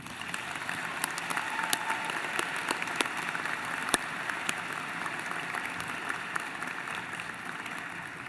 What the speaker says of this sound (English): may I ask you to join me in a round of applause for the faculty and staff who supported you